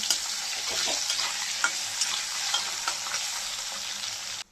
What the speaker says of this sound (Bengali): ওই তেলেই আমি আলুটা ভেজে নিচ্ছি